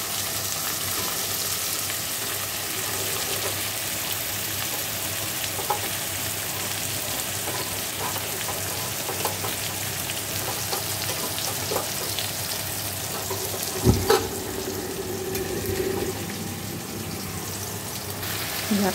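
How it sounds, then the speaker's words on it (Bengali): Young jackfruit sizzles steadily in hot oil with turmeric in a pan, a continuous close frying hiss with a brief clatter of stirring midway and no talking. "ঝাঁকু ইঁচড়টাকে একটু ভেজে নেব"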